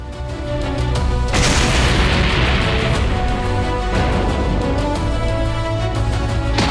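A spaceship attack pod crash-lands in a Dragon Ball anime scene, a loud sustained roaring rumble with a bright crashing burst that settles into continuous heavy noise.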